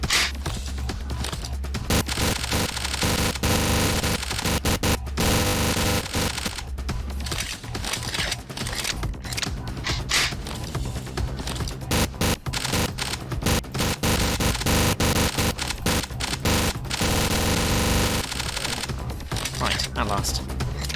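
A firefight in the FPS Creator game OPS Hong Kong plays out as loud, continuous bursts of gunfire, rapid cracks and mechanical clatter that run almost unbroken for twenty seconds with only brief lulls.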